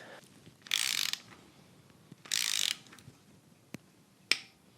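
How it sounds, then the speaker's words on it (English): A ratchet turning an LS engine over during a camshaft swap in a home garage: two bursts of rapid clicking a second or so apart, then a couple of single sharp clacks, close in a quiet space. "Now I rotate the motor 360 degrees"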